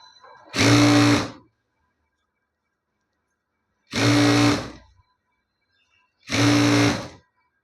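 Sewing machine stitching a folded blouse seam in three separate bursts, each about a second long, with quiet pauses between the runs of loud, close motor whirring.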